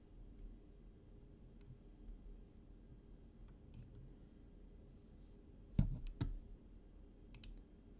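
A few sharp computer mouse clicks land in a quick cluster near the end, with one more soon after, against a quiet, faintly humming room while geometry is created and edited in 3D modelling software.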